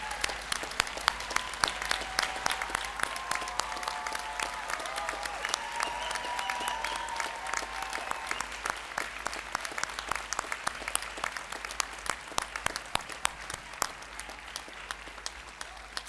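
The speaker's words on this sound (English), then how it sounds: "let's stand and give her a round of applause" A commencement audience, many standing, gives sustained applause, a dense steady patter of claps lasting the whole stretch at moderate distance, with faint crowd voices mixed in.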